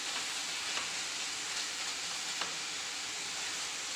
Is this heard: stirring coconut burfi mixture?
yes